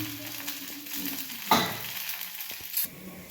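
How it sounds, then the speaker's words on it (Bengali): Uttapam batter frying on one side in a pan, a steady soft sizzle with a sharper scrape or spatula touch near the middle and a brief clatter toward the end, no voices. "এবার এইটা এক পিঠ আমাদের ভাজা হয়ে গেছে"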